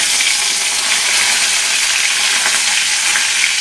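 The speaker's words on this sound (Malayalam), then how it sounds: "കടുക് പൊട്ടിക്കഴിഞ്ഞ് വേപ്പിലിടുക" Curry leaves drop into hot oil where mustard seeds have already popped, giving a loud, steady, dense sizzle and crackle that runs unbroken for the whole stretch, close up and alone.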